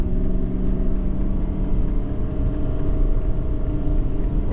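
A 2017 Ford F-550 Powerstroke diesel truck with high mileage rumbles steadily from inside the cab as it downshifts to second gear, a deep continuous engine drone with no talk.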